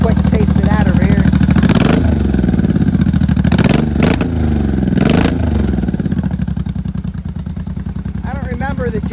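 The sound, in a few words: 1983 Honda motorcycle engine revving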